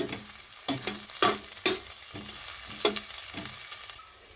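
Ginger sizzles in a hot pan as the first step of a misua soup with chicken and patola, with a steady frying hiss broken by about half a dozen sharp scraping stir strokes close by.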